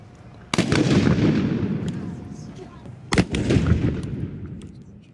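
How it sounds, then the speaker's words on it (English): Two sharp, loud field rifle shots ring out during an outdoor firing demonstration on South Parade, each followed by a long rolling echo and rumble, with faint crowd sounds in between. "there'll be a Saturday field rifle firing demonstration right over here on South Parade right now"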